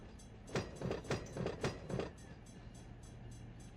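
Train locomotive in the Run8 train simulator, a low rumbling hum with a burst of rhythmic clickety-clack as wheels pass rail joints, then settling to a steady drone.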